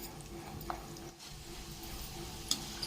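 Garlic, together with peanuts, frying in hot oil in a pan for an okra fry, with a steady low sizzle and a few small ticks and pops, close and fairly quiet.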